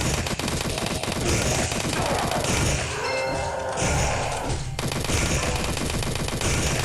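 Dense, relentless gunfire from a shotgun blasting swarming enemies in the VR game Rift Hero on Meta Quest, loud and continuous with crashing impacts and a brief mechanical shift partway through.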